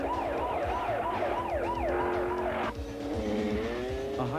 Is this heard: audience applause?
no